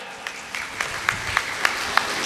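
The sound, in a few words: audience applause welcoming the announcement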